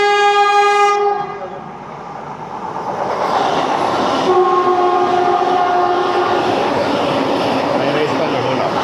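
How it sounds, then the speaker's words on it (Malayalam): The Jodhpur–Sabarmati Vande Bharat Express sounds a loud, sustained horn blast, then rushes past nearby with a steady roaring rumble of wheels on rail, and a second fainter horn tone cuts through partway. "ജോധ്പൂർ സാബർമതി വന്ദേ ഭാരത് എക്സ്പ്രസ് ആണത്."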